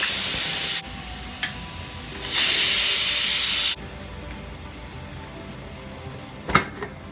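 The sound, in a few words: steam hissing from pressure release of cooker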